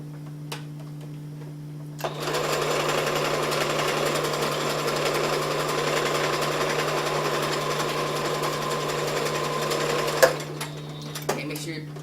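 Sewing machine stitching a pillow at an arts-and-crafts session, running as one steady, fairly loud mechanical whir for about eight seconds after a quiet start, then stopping with a few small clicks.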